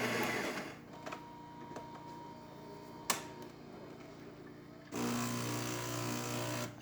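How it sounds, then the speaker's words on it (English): A Saeco espresso machine pulling a shot runs with a mechanical pump hum and a few clicks, quieting briefly before a louder, steady pump drone resumes. "Now we're going to be doing an espresso shot."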